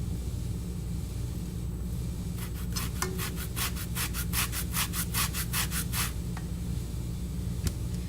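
A hand grater scrapes across orange peel in a quick run of about a dozen even, rhythmic rasping strokes, close and fairly crisp over a steady low background hum, with no one speaking.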